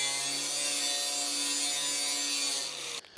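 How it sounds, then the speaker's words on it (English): A 40-grit flap wheel on a rotary tool grinds metal during floor pan work on a 1970-81 Camaro, giving a steady, loud, harsh whine with a sustained tone that cuts off abruptly near the end as the tool stops. "Flap wheel on a rotary tool is my first choice for grinding metal."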